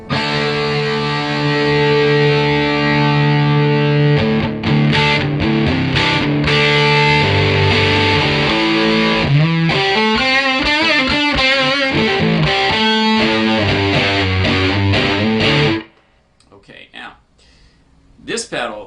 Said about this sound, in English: is a really, really great